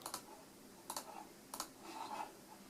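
Typing on a virtual keyboard while testing an Android dongle: a few faint, scattered tapping clicks in short bursts over quiet room noise.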